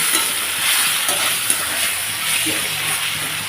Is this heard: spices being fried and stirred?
yes